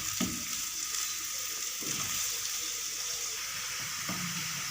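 Onions sizzling steadily in a pan on the stove, a constant close, hissing fry with a few soft clinks and stirring knocks, no voices.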